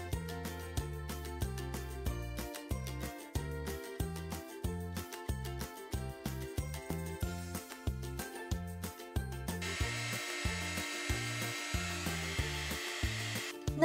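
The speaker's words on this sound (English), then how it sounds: "we're going to cure the clay with a heat gun" A heat gun cures polymer clay on a custom My Little Pony figure, its steady airy blower hiss joining partway through beneath rhythmic background music.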